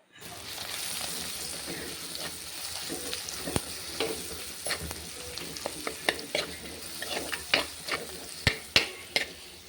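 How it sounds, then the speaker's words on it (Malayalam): Chili paste sizzles and fries in hot oil for a Kerala-style fish curry, with a steady close crackle and scraping stirs that grow into sharper clanks of the spoon against the pan toward the end. "ആ കുഴച്ച് വെച്ചിരിക്കുന്ന ആ മുളകുണ്ടല്ലോ അത് അതിനകത്തോട്ടിട്ട് നമുക്ക് ആ നല്ലതുപോലെ അതിൻ്റെ പച്ചമണം മാറും വരെ ഒന്ന് നമുക്ക് ഇളക്കിയെടുക്കണേ"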